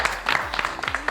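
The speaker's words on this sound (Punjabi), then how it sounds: "ਤਾੜੀਆਂ ਯਾਰ ਸ਼ਬੀਰ ਭਾਈ ਵਾਸਤੇ" Audience clapping at an Eid outdoor road show in Punjab, a short, fairly dense burst of hands rising and falling with a couple of sharper claps, heard at moderate level.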